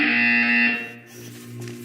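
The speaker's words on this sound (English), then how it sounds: "When you hear the buzzer, look up at the ceiling." A harsh electronic buzzer from the Portal 2 video game sounds loud and sustained for under a second, then fades into a lower lingering hum.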